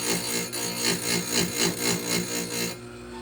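A grinder stone sharpening a tooth on the chain of a Husqvarna 450 chainsaw, rasping in about seven rhythmic, even strokes at close range, then briefly quieting, with no talk.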